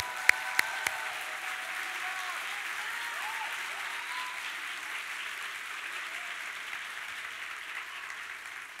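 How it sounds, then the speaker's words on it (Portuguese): A church congregation applauds the Lord during a sermon, a steady, fairly faint wash of many hands clapping with a few sharper claps near the start, continuing evenly for close to nine seconds. "Você pode aplaudir o Senhor."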